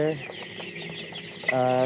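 Chickens cluck close by on a poultry farm of about a thousand 28-day-old birds, one short cluck at the start and another louder call near the end over a low barn murmur.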